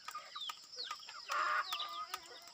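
Several chickens cluck and squawk close by in quick, overlapping calls, with a few sharp clicks or taps among them.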